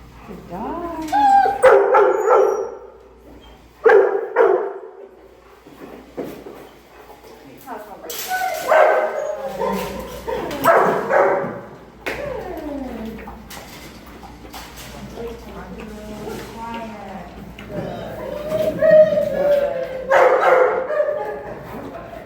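Several kennel dogs bark, yip and whimper excitedly at morning feeding time, a house of about 25 dogs, with bursts rising and falling nearby while a person talks over the noise.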